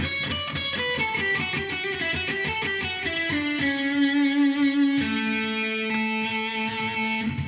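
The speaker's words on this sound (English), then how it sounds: "It's funny that's like a ton of deadly distortion" A Godin 5th Avenue guitar played through heavy distortion, quick repeated picked notes giving way to long, ringing sustained notes, loud and close with no talking.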